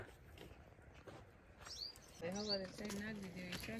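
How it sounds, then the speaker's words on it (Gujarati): Pigeons gather at a farm to eat scattered grain, faint coos and soft chirps sounding at a distance beneath quiet outdoor background noise, with a brief flutter. "જો આપણે કબૂતર મીંડા હે સૈણ ખાવા કારણ કે નાનજી બાપે હવારમાં જ નાખી દીધી હોય"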